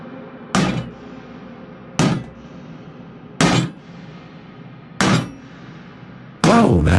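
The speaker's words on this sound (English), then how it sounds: "he heard a pounding at his window, and he thought that someone was hammering it" Five loud, sharp bangs strike a window at regular intervals of roughly a second and a half, each a hard hammer-like knock that rings briefly before quiet returns.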